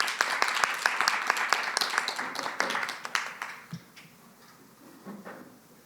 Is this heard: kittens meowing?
no